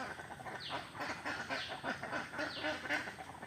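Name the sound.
ducks quacking while bathing in a pond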